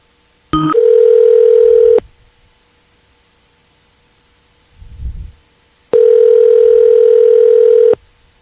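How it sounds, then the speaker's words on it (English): A telephone ringback tone sounds in two long, loud buzzing bursts separated by a pause, with a soft thump in between. "So it's ringing right now."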